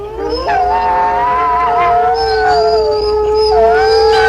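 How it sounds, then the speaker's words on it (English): A wolf howls in one long, close, steady call that slides gently in pitch. Fainter overlapping howls rise behind it in the second half. "He whimpers and growls and barks and howls."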